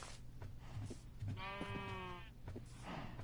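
Sheep bleating in Minecraft: a single drawn-out, wavering bleat rises clearly above a low, steady game background hum, with no talking.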